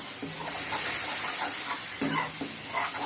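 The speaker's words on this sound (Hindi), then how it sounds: "जैसा कि आप देख रहे हैं कि मसाला कढ़ाई में भुज रहा है" Masala sizzles and fries in a kadhai while being stirred, a steady close crackle with soft scraping strokes during home cooking of sev tamatar.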